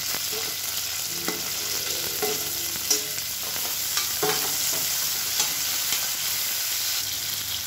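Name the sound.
onions frying in pan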